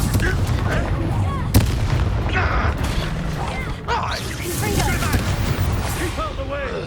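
Confringo fire spells burst in Hogwarts Legacy during a fight, with a sharp crack early on and rumbling blasts and mechanical clatter throughout, while voices shout over the action.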